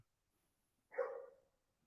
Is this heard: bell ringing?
no